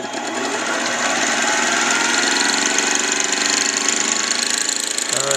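A mini lathe spins at about 1600 RPM while cutting, with its carriage unlocked, giving a steady, buzzing mechanical whine and rattle that runs continuously and fairly close with no talking.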